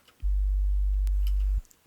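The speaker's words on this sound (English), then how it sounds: "But right now, let's just add a sine wave." A steady, low sine wave bass note from a software synthesizer holds for just over a second, then cuts off cleanly, with near silence before and after.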